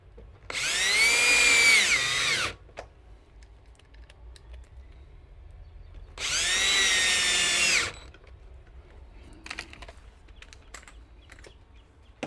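A power drill driving screws into a greenhouse vent, two loud, close whirring bursts of about two seconds each, rising in pitch under load, with quiet clicks and handling noise between them.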